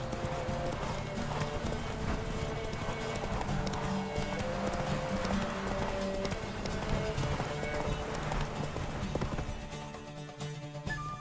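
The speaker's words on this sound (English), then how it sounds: "Whoa there, Roach" A horse gallops in The Witcher 3 video game, its hooves drumming in a steady, continuous clip-clop under game music and ambience throughout.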